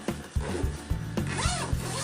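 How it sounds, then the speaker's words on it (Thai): The zipper on a Kangaroo-brand men's PU leather shoulder bag is drawn in a few quick, close rasping pulls, with no voice. "ซิปครับผม"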